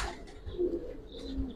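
Giribaz pigeons coo softly in a short, low murmuring call, faint and close, with a second brief coo toward the end over quiet background noise.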